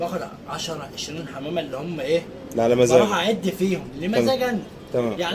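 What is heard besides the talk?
No everyday noise stands out behind the speech.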